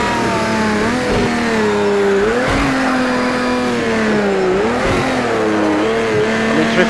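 A Porsche 917K racing car in Project CARS 2 drifts around the Nordschleife, its engine roaring steadily with rising and falling revs while the tires squeal and slide continuously.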